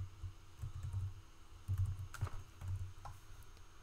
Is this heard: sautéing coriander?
no